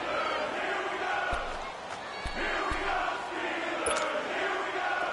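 Stadium crowd in an American football video game on PS4 roars steadily through the fourth quarter, a continuous loud wash of cheering and shouting with a few sharp thumps and whistles standing out.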